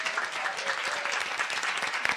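Brief, fairly soft applause from a lecture audience celebrating students at an ethnic, gender and transborder studies lecture, with even clapping throughout.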